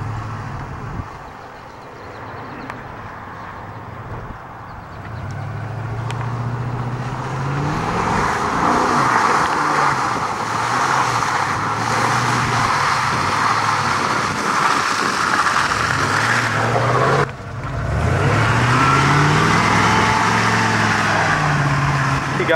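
A Ford Bronco driving through mud in two-wheel drive, its engine rising from idle to a loud, sustained revving roar with shifting pitch, dipping briefly before surging again.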